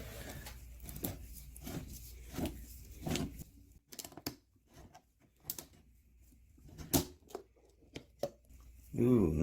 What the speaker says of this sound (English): let's cut this filter open and see what it looks like